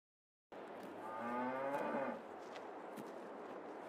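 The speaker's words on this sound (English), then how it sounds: "Cow make moo." A cow in Farming Simulator 22 on the France map gives one long, drawn-out moo that rises and fades after about a second and a half, clear and alone over a quiet farm ambience.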